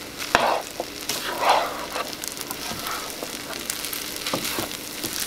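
Vegetable fried rice stir-fries in butter over high heat, an ongoing crackling sizzle punctuated by sharp clicks and scrapes of the utensil against the pan.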